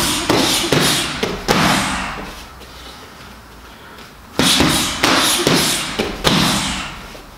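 A fighter throws a fast combination of punches and a kick to the head into pads, producing two bursts of sharp, loud thuds and slaps separated by a quieter pause.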